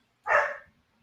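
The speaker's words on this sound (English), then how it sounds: "Sorry about my dog there barking." A single sharp bark from a pet dog indoors at home, loud and close, rising quickly and fading within about half a second, with no other sounds around it.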